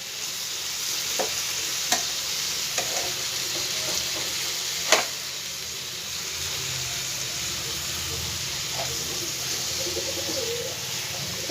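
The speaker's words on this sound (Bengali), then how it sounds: "এইভাবে সবগুলোই আমি উল্টিয়ে দেবো। উল্টিয়ে এগুলোকে আর একটা পিঠ আমি এইভাবেই ঠিক ভেজে নেব।" Chicken pieces for chicken changezi frying in a pan and being turned over one by one, a continuous sizzle with a few sharp clinks and scrapes as each piece is flipped, and birds cooing faintly in the background.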